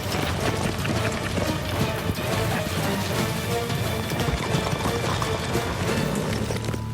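Horse hooves clop along a wooded bush trail beneath a steady, noisy outdoor background, softer and more scattered than a clear gait, with no one speaking.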